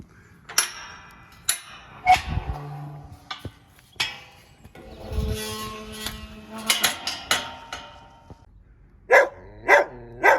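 A small dog barks repeatedly outdoors on a trail near Harrisons Rocks, sharp yaps coming in irregular bursts with pauses between, ending in a quick cluster of three loud barks.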